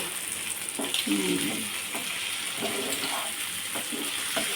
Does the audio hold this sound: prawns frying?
yes